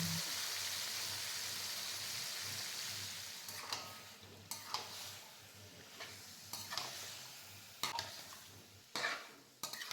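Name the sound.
marinated chicken being stir-fried in a pan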